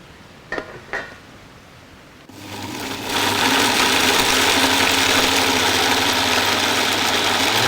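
A mixer grinder starts up and runs steadily, loud and continuous, grinding cooled ingredients after a couple of brief clicks and a low hum.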